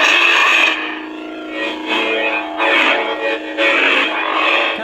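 Vader's Vault Mitsurugi 3K lightsaber sound font, customized to its hilt, buzzes with a dense distorted electronic hum and a cybernetic edge, swelling into loud repeated swings and clashes over about five seconds, with no voices.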